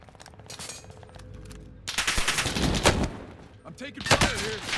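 Rapid automatic gunfire from a Call of Duty: Warzone match with an MP-40 loadout starts quietly, then turns into loud, dense bursts of near shots with overlapping fire and some game voice sounds.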